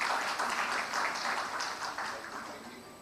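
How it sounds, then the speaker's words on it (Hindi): Audience applause at an agriculture pre-summit event for farmers in Rajasthan, a dense wash of clapping from a sizable crowd that holds steady and then gradually fades over a few seconds. "पुनः जोरदार तालियां हो जाए डॉक्टर समित शर्मा जी के लिए।"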